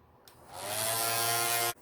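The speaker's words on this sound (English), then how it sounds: "I'm going to use the blow dryer to dry it" A steady electric whirring blast, like a hair dryer, switches on and runs at an even, loud level for over a second before cutting off abruptly.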